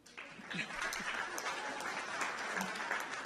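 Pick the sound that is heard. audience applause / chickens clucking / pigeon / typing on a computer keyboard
audience applause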